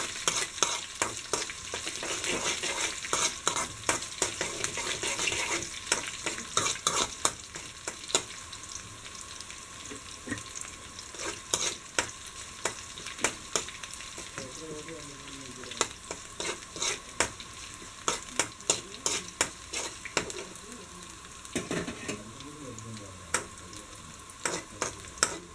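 Cut dried red chilies added to onions sautéing in a pan for a Kerala ripe mango curry, a soft sizzle under repeated close clanks and scrapes of stirring, fairly quiet and unvoiced.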